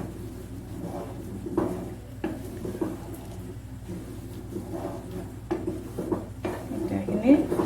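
Chickpea curry stirred in a wok with the chickpeas' cooking water: a spoon scrapes and clinks against the metal pan in irregular strokes over a steady low kitchen hum.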